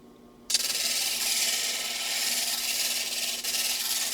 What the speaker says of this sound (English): Just back and forth like that.